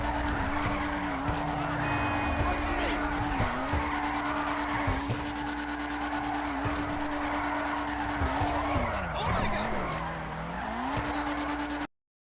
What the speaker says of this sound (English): So we are drifting right now, the Honda S2000 or the RT3000 in this game.